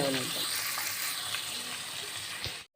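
Onions and spices fry in a pan for Rayalaseema-style uggani, a puffed rice dish, giving a loud, steady, close sizzle that runs unbroken until it cuts off abruptly at the end.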